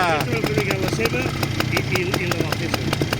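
A Suzuki-engined 98cc McLaren trial motorcycle runs close by with a steady, rapid idle-like putter, while people talk over it at a trial event.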